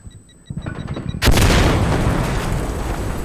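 In the video game Insurgency Sandstorm, a grenade launcher round explodes close by with a sudden loud boom, followed by a long roaring rumble. Faint clicks and tones come just before it.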